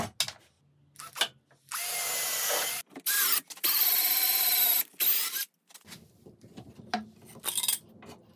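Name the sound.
sanding hardwood table legs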